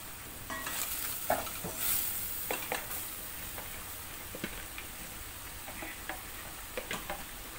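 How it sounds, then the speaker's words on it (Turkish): Minced meat frying in a pan with onion and pepper for a potato and kashar cheese dish, a steady soft sizzle broken by scattered scrapes and clicks of stirring, close and alone. "Kıymayı kavurdum. Soğanla biberini koydum şimdi içine."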